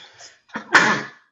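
A single sharp sneeze, close and fairly loud, with a short intake of breath before it, heard during a casual conversation among people discussing a running race.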